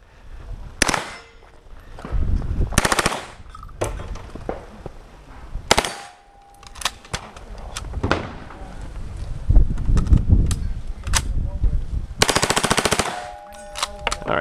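A submachine gun firing on a competitive shooting stage at Palm Bay, in several sharp rapid bursts separated by pauses, loud and close with clanks and shuffling between strings of fire.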